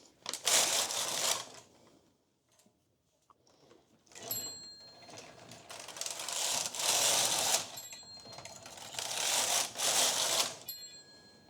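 Knitting machine carriage knitting a row with a second colour, loud close whooshing and clattering passes that sweep across and back several times, separated by brief pauses with faint clicks.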